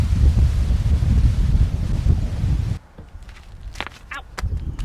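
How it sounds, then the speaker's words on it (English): Strong wind gusts outdoors beside a small camper trailer, roaring loudly across the microphone for about three seconds, then briefly easing before buffeting again. "the wind's crazy"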